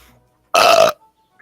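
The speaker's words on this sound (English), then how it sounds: "I can swallow air and burp, so there." A single loud, deliberate burp produced by swallowing air, lasting about half a second and heard alone in an otherwise quiet room.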